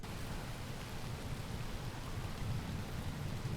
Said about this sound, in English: So I start with some rain, some sirens, and I start the sample out really,